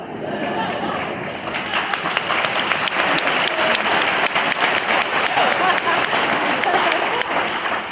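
Applause in a pinning ceremony room, a crowd clapping loudly and continuously for several seconds, swelling after a brief start and holding at full strength.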